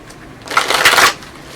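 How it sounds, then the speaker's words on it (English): A deck of tarot cards is shuffled once in a quick riffle, a short crisp fluttering burst close to the microphone in a quiet room. "All right, one more shuffle."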